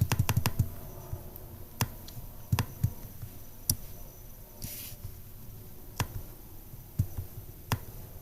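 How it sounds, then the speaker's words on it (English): Sparse keystrokes on a computer keyboard, a handful of separate clicks spaced a second or so apart, close and fairly quiet with no talking. "So let's go ahead and type that in."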